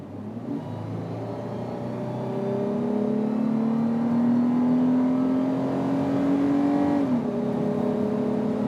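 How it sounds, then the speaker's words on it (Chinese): A 2014 Toyota FJ Cruiser with the 4.0 V6 accelerates hard from 50 km/h. The loud, steady engine drone climbs smoothly in pitch for several seconds, eases briefly, then carries on, with no talking. "时速50，我突然间踩大油，它加速表现是如何啊"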